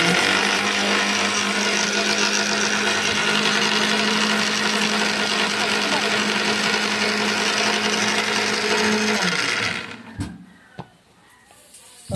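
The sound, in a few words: mixer grinder grinding dried tamarind chutney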